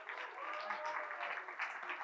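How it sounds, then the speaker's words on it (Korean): An audience at a church revival service claps together in a soft, steady burst of applause heard from a distance, with no talking over it. "네, 우리 박수로."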